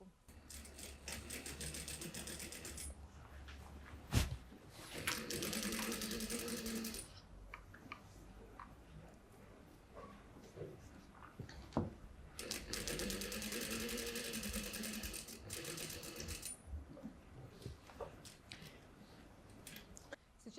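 A sewing machine stitches silk flower pieces in two long steady bursts of rapid whirring, separated by quieter pauses with small handling clicks.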